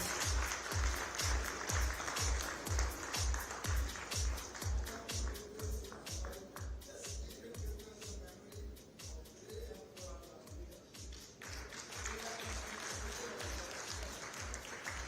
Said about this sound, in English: Let us have a resounding of claps, ladies and gentlemen, to commemorate this moment.